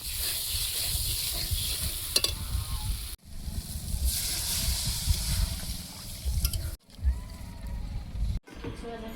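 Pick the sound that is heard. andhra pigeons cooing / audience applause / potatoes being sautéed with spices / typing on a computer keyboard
potatoes being sautéed with spices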